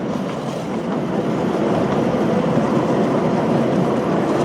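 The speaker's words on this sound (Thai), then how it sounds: "รถไฟ" A train rumbling steadily along the tracks nearby past rice fields in Pathum Thani, a continuous loud roar with a faint rhythmic rattle, growing slightly louder.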